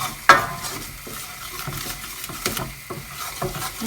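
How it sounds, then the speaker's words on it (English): Chicken and mushroom pie filling stirred in a pan, close scraping strokes and soft bubbling sizzle repeating in a loose rhythm, with one sharp utensil knock early on. "You have to remember to keep stirring this."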